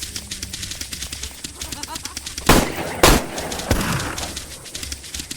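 Gunshots fired at a wandering rabbit in a wilderness survival video game, two sharp loud cracks about half a second apart and then a softer third shot, with someone talking throughout.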